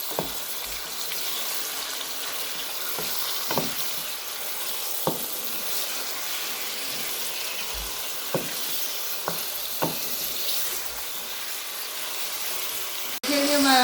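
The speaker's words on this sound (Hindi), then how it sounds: "इसको हमने इसका कलर चेंज होने तक इसको हमने इसको भूनना है, कलर चेंज होने तक।" Shinwari-style mutton karahi fries in hot oil, a constant broad sizzling hiss with a few scattered spoon clicks, ending in a brief louder knock.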